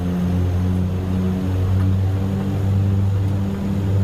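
The Dash 8-Q400's turboprop engines spool up for takeoff in X-Plane 12, a loud, steady propeller drone with strong tonal hum heard close and continuous, without voices.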